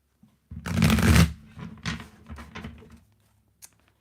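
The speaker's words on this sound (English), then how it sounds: "Just going to get one more shuffle in for Leo." Tarot cards are shuffled close by in one dense riffling burst followed by a few softer shuffling rustles, with no voices.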